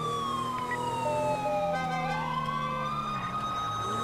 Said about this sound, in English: No one's listening to siren.